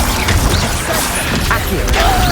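Incendio, Confringo and Glacius spells cast in the Hogwarts Legacy video game, loud overlapping crashes, clanks and whooshing bursts packed into a short, busy stretch of combat noise, with voices mixed in.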